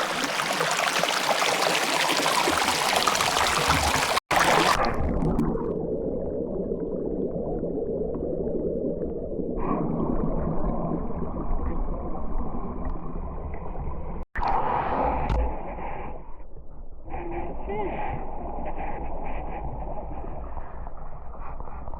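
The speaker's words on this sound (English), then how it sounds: "A little bubbling brook." A bubbling brook at the Carpenter Canyon waterfall runs steadily close by, with broadband rushing water that shifts in tone partway through. It continues without talk, with a couple of sharp clicks breaking the flow.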